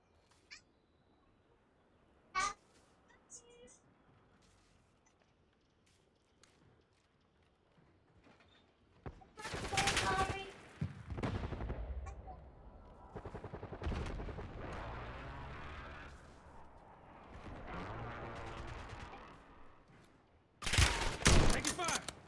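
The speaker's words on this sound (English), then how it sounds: "Taking fire." Gunfire erupts in a video-game battle, with a lone sharp shot early on, then a long, dense stretch of rapid automatic fire and explosions, ending in a loud final burst.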